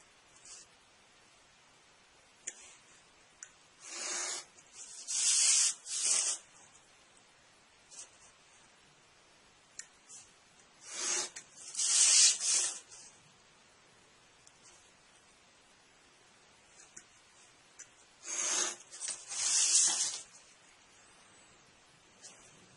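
A hobby knife scores lightly along a ruler on a 1:200 scale model control tower, giving three soft paired scraping strokes separated by quiet pauses, close and faint.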